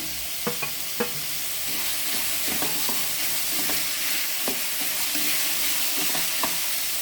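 Mint and chopped coriander leaves frying in a pan for vegetable pulao, a steady broadband sizzle with a few sharp stirring clinks and scrapes scattered through, close and fairly loud, no voices.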